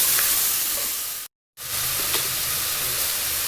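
Chopped tomatoes sautéing in a pan for homemade tomato bath, a steady close sizzle and hiss with faint stirring scrapes, broken by a brief silent gap midway.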